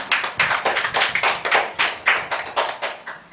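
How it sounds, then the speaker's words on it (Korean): A congregation claps together in a church worship service, a steady run of sharp, closely spaced hand claps in a loose rhythm, fairly loud and close, with no voices over it. "우리에게 은혜 주신 하나님께 영광의 박수 올려드리겠습니다"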